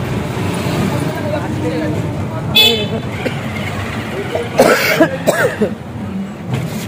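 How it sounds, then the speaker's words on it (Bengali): A person with a cold caught on a train coughs several times in quick, close bursts, amid talking and outdoor street noise with passing vehicles and an occasional horn. "কাশি হচ্ছে, এই এক ঝামেলা"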